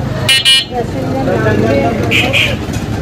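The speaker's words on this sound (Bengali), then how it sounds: "পিপি পিপি করে হর্ন মারলে হবে" Two short bursts of car horn honking sound on a busy Bengali street before the Puja festival, with traffic noise and people talking underneath.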